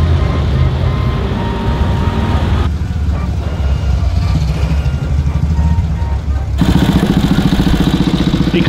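A motorcycle engine idles loudly nearby with a steady rumbling throb that changes character twice, ending in a rhythmic pulsing chug, while people talk over it.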